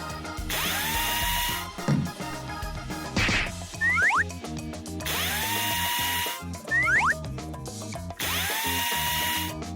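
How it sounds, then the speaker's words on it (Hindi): A power drill used to assemble a frame, with repeated whirring runs broken by ratcheting clicks and short pauses, loud and close alongside springy boing-like sound effects. "ये ड्रिल अच्छा काम करती है।"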